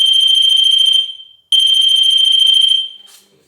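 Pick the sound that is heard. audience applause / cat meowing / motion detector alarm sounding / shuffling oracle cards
motion detector alarm sounding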